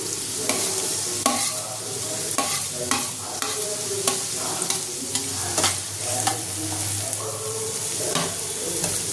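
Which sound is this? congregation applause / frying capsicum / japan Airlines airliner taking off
frying capsicum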